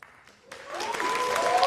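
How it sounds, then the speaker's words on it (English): Applause swells up from near silence into a dense, sustained clapping of a crowd at a Global Chess League event, with a faint tone running underneath. "give a big hand of applause to Upgrown Mumba Masters and Triveni Continental Kings"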